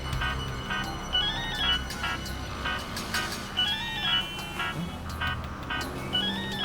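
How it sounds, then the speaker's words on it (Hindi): A mobile phone rings with an incoming call, its repeating electronic melody chiming steadily and fairly loud over a low, busy background for several seconds, with no speech. "शायद किडनैपर का फोन होगा।"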